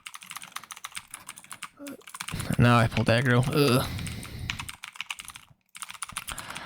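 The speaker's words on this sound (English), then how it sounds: "I'm hoping that my keyboard doesn't pick up too much in the microphone" Rapid clicky typing on a computer keyboard during a World of Warcraft Fury Warrior dungeon run, continuous and close, with someone briefly speaking over the keystrokes midway.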